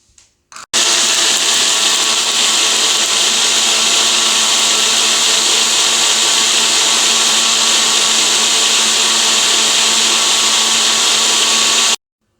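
A mixer grinder grinding garlic and spices whirs loudly and steadily for about eleven seconds after a couple of brief clicks, then cuts off abruptly.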